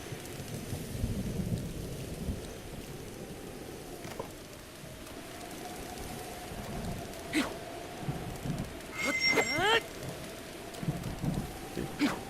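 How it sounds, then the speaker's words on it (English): Steady rain pours throughout while thunder rumbles and cracks, with a sharp thunderclap near the middle and more rolling crashes later, fairly close and loud, in The Legend of Zelda: Breath of the Wild. "Just waiting for the rain to stop."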